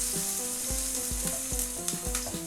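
Green chilies and ginger frying in hot oil with curry leaves for a mango pickle, a bright crackling sizzle with repeated scrapes and taps of a spoon stirring.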